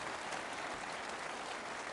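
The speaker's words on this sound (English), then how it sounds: "Round of applause, please, for Mr. Sunak taking my questions." Sustained applause from an audience at a Conservative Party leadership hustings, steady, dense clapping filling the whole stretch at moderate distance with no voices over it.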